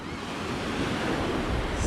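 Steady roar of ocean surf washing onto a beach on Anna Maria Island, broadband and continuous with wind noise on the microphone, swelling slightly louder toward the end.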